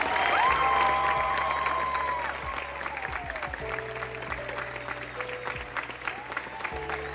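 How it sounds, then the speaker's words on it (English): Applause for the guests at a PA school graduation celebration: a crowd claps, loud at first then thinning into scattered claps under background talk. "I think we should give one more round of applause for all of our guests."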